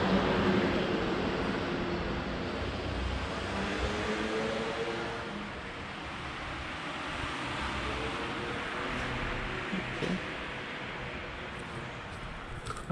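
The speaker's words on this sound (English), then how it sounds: "I did see a car going by there" A single car drives past on a very quiet Sunday-morning street in Spain during lockdown, a broad steady whoosh of tyres and engine heard from indoors, swelling and easing over several seconds with no other activity.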